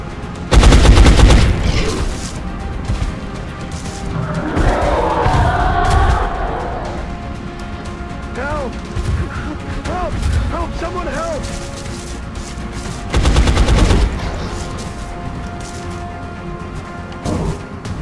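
Gunfire in the video game XCOM Enemy Unknown: loud bursts of rapid shots open and return near the end, with crashing impacts and game effects in between and occasional talk mixed in.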